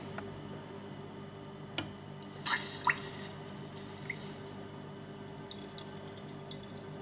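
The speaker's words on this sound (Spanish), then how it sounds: "300 mililitros de nata para montar y 75 gramos de azúcar, ¿vale? Y lo vamos a poner en la olla." Whipping cream and sugar poured into a pot, heard as a soft liquid splash and pour around the middle, with a few drips and small clinks before and after against a quiet room hum.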